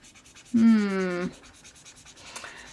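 An Arrtx art marker drags across paper in one short stroke with a scratchy, slightly squeaky rasp, close up and lasting under a second, followed by quiet room tone.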